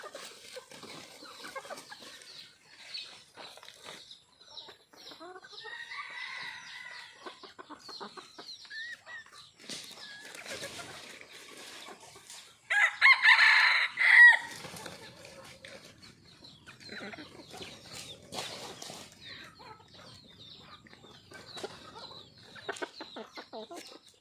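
Chickens cluck and call intermittently at a distance, with one louder crow-like burst midway, amid faint background talk and rustling.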